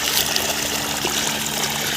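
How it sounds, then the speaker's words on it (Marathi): Water gushes steadily from the pipe of a 7.5 hp solar-powered borewell pump, a continuous close, loud splashing rush with no voices. "आता मी पाणी किती टाकतं हे तुम्हाला दाखवतो चला तुम्ही बघू शकता पाणी किती टाकत आहे"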